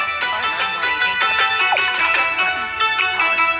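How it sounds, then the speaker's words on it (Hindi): An incoming call sets a phone ringing with a bright electronic tune, repeated notes pulsing steadily at close range and loud, with no speech. "बीच में फ़ोन आया है"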